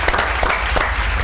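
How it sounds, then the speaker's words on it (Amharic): An audience at a televised music competition breaks into applause, a brief, loud burst of dense clapping with a few sharper hand strikes standing out. "ጭብጨባ"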